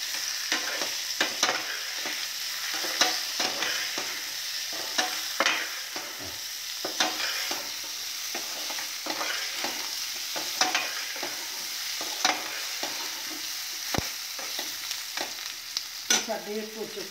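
Turmeric fries in hot oil in a pan while being stirred, giving a continuous crackling sizzle with frequent quick scraping strokes and occasional clinks of a spoon, close and even, without speech.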